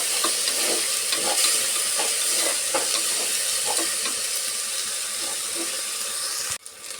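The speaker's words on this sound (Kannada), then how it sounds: "ಸ್ವಲ್ಪ ಕುಕ್ಕರ್ಗೆ ಈ ಥರ ಸೇರಿಸ್ಬಿಟ್ಟು ಸ್ವಲ್ಪ ನಾವು ಫ್ರೈ ಮಾಡ್ಕೊಬೇಕು ಆಯಿಲಲ್ಲಿ." Khara pongal ingredients frying in oil inside a pressure cooker, a steady loud sizzle with a faint rhythmic scrape of stirring, ending in a brief knock near the close.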